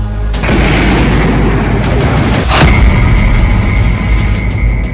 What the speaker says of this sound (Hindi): अब 10 सितंबर को ज़ेलेंस्की का एक और ड्रोन मॉस्को तक पहुंच गया और इस धमाके को अंजाम दिया।